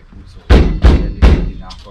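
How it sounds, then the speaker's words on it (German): A VW T2 van door slammed shut, giving three loud, heavy thuds in quick succession, close by, with faint background noise between impacts. "Einmal die Tür zu gehauen, liegt die Scheibe daneben."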